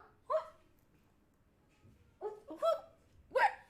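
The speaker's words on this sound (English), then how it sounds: "Who is barking?" A dog gives several short, sharp barks and yips in a quiet room: one isolated bark, then three more in a quick cluster a couple of seconds later, moderately near.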